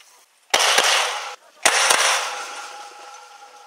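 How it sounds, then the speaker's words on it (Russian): Military crews in Ulan-Ude rehearsing a festive salute, firing two loud blank volleys about a second apart, each a sharp close crack with a long rolling echo that fades slowly. "Отработать, оттренировать салютные залпы."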